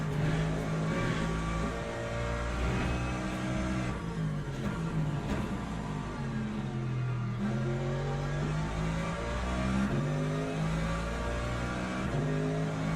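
Hypercar racing engines in the Le Mans Ultimate video game during a wet race at Bahrain, a continuous loud roar of revving and shifting engines with rising and falling pitch as several cars run together.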